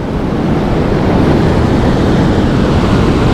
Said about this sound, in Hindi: खूबसूरत बहाव है पानी का